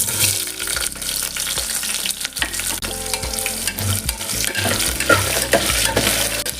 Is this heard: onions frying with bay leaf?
yes